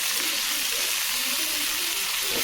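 Tomatoes with salt sautéing among Indian pennywort (vallarai keerai) greens in a pan, giving a dense, steady, close hiss with no pauses.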